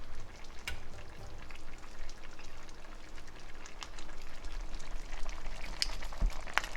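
A thick roux of flour and fat is mixed in a pan for chicken coq au vin, with a steady soft sizzle and faint scraping and stirring noises that go on continuously at low level.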